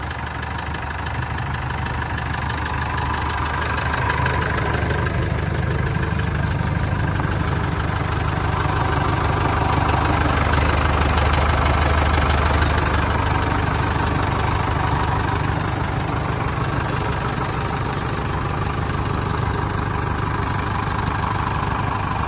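A 110-horsepower Isuzu engine idles steadily with a low, continuous rumble and mechanical clatter, loud and close, with no talk over it.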